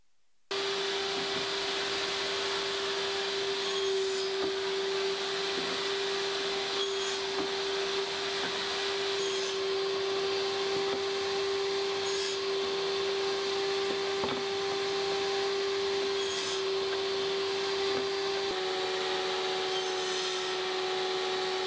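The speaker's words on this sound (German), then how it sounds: "Das mache ich an der Tischkreissäge und schlitze hier alle Teile im gleichen Abstand rundherum ein." A table saw runs with a steady tonal whine for the whole stretch, with faint periodic noises beneath as it cuts slots into wooden pieces, close and continuous.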